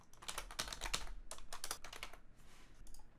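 Quick bursts of keystrokes clatter on a computer keyboard, close and crisp, in irregular clusters with brief pauses.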